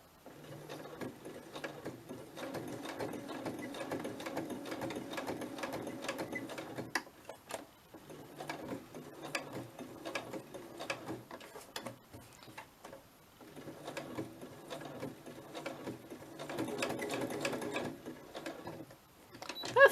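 A sewing machine stitches cotton in long bursts of rapid mechanical ticking, running several seconds at a time with brief pauses between runs, close and fairly quiet.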